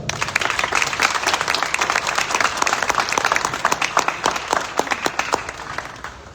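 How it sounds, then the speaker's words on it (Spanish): Applause from an audience at a book launch in an athenaeum, a full steady roar of many clapping hands with sharper individual claps standing out, continuing throughout. "Un fuerte aplauso."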